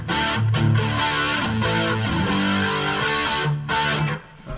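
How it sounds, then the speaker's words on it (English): Electric guitar played through an overdrive distortion pedal into a Line6 Helix and Mackie Thump Go speakers, a loud, sustained gritty crunch of held chords and notes, played alone. "Here is my, this is the overdrive distortion,"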